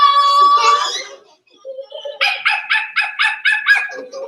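High whining yelps give way to a quick run of about eight sharp, evenly spaced yapping barks, close and loud, at a live mermaid swim show during a maritime festival.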